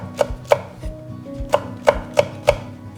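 A knife chopping chili peppers diagonally on a cutting board, six sharp, close thuds spaced unevenly at a relaxed pace, with no talking.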